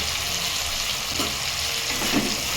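Tomato paste and salt go into hot spiced oil for a tarka dal, giving a steady close sizzle that crackles a little louder near the end, with no voices.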